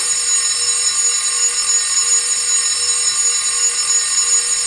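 Alarm clock ringing in a video game, a loud, shrill, continuous buzzing ring that runs unbroken from start to end with no pauses and no voices.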